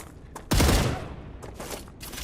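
Gunfire in the video game Star Rupture while shooting at a creature: a sharp burst of rapid shots erupts loud and close, then trails off, followed by a few shorter, weaker bursts.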